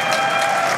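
A live audience at a Games Done Quick speedrun event applauds and cheers in a dense, loud, continuous wash during a Baldur's Gate 3 run.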